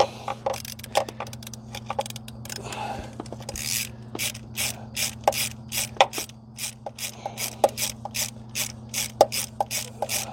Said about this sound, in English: let me loosen these perimeter bolts up here